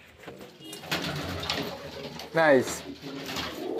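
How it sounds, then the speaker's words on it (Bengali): Pigeons coo softly in a backyard loft as a pair nests among the coops, low throaty warbles rising in a clear burst partway through, heard under a man's close-up talk. "অনেক পায়রা তো ভাইয়ের।"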